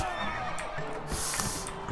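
A horse neighs in the video game Mount and Blade Warband, a close whinny over a low background rumble.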